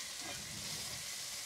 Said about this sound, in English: just put some olive oil in, some onion, some garlic, some chili,